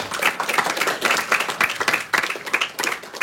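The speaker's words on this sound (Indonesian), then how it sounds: "Kasih terus tepuk tangan." A group of school students claps steadily and continuously during a religious text study session, fairly close and loud, with irregular overlapping hand claps and no talking.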